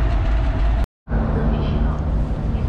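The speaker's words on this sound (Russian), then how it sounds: "Тепловоз 2М62 с грузовым составом." A 2M62 diesel locomotive hauling a freight train rumbles past steadily at a Moscow railway station, loud and continuous with one brief dropout, while a voice talks over it.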